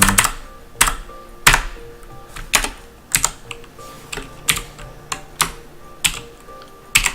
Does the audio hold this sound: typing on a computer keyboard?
yes